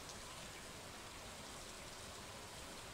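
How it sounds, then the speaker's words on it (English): Rain in the video game Stardew Valley, a steady soft hiss of falling drops, even and unbroken throughout, fairly faint and heard alone. "Watching the curtains of rain whisper above a silent lake."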